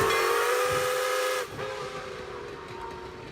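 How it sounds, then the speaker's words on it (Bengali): A fast train's steam-style whistle blows loud and sustained, then drops away into a steady hiss and rumble as the train races on at night. "একখানি দ্রুতগামী ট্রেন ছুটে চলেছে বর্ধমান থেকে দুর্গাপুরের দিকে।"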